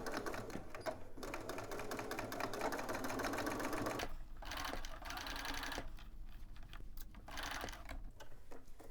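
A sewing machine runs a zigzag stitch in quick, steady mechanical bursts. The stitching is faint and close, with brief pauses and changes in speed.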